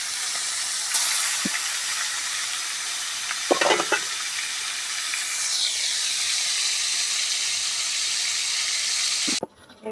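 Snakehead fish coated with lemon, salt, turmeric and chili fries in hot oil with a continuous close hissing sizzle and a brief stirring scrape midway, then cuts off abruptly near the end.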